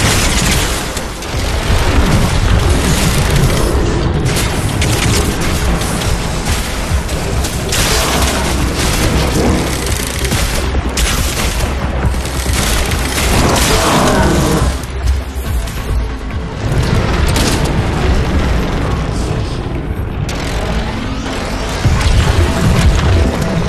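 Artillery fire and heavy explosions in the video game Crysis 3: repeated deep booms and crashing blasts with mechanical clatter, loud and dense throughout the stretch.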